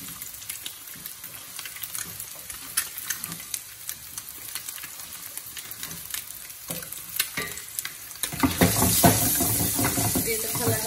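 Egg bhuna sizzles and fries in oil in a pan while being stirred, crackling steadily with scraping stir strokes, then growing louder and busier near the end.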